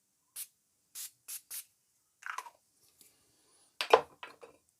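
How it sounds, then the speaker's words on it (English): Morphe Continuous Setting Mist sprayed from a pump bottle in several short, crisp hissing bursts close to the microphone, followed by faint handling and rustling. "let's take Morphe's Continuous Setting Mist and just spray that"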